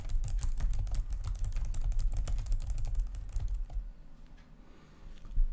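Rapid, busy keystrokes clatter on a computer keyboard while text is entered in photo-editing software, stopping abruptly partway before one last soft tap.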